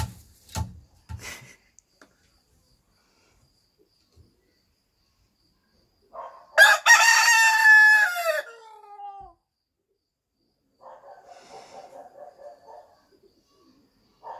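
A pet rooster crows once at close range, a loud harmonic call with a rising start and a long falling tail, set between quiet stretches with faint clucking and scratching noises before and after.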